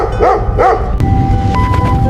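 A dog barks at a window, two sharp barks close together followed by a quieter whine, loud and near over a busy background.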